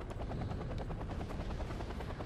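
A Ka-52 attack helicopter in Wargame Red Dragon chops steadily with loud, rapid rotor beats and a rumbling engine drone, continuous and close throughout.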